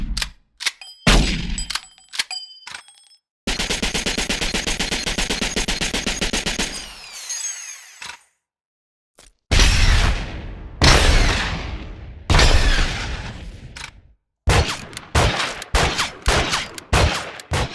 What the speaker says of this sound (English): Here are some of the other weapon sounds Robert added to the game.